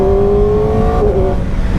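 A loud Kawasaki Ninja ZX-4RR motorcycle engine with stock exhaust drones steadily with a strong airbox intake roar, its pitch sliding down slightly as it eases off near the end.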